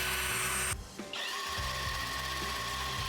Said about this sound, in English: let's try to create this problem with this big wood arced drill.